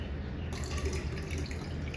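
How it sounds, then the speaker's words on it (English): Water is poured into a hydrofacial connector bottle, a steady close trickle and splash that runs without a break for two seconds, with no voices over it. "and simply pour your water"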